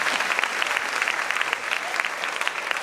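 A church audience applauds steadily, a dense, even patter of many hands clapping that continues without voices.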